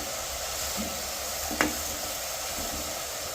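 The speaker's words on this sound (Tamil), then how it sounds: "இந்த கட்டத்தூள் கலவையோட புடலங்காய் இப்போ நல்லா வதங்கட்டு" Snake gourd sautés with a spice powder mix in a pan, giving a steady, even sizzle close by, with one sharp scrape of stirring midway and no voices.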